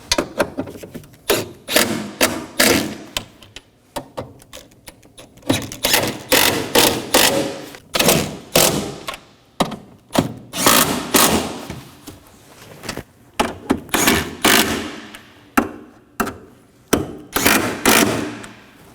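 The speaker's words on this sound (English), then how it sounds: "Now we're going to snug down all of our 10mm fasteners." A hand ratchet snugs down 10mm fasteners on the front engine torque strut mount of a 2015-2023 Nissan Maxima 3.5L V6, giving repeated close, loud bursts of clicking separated by short pauses.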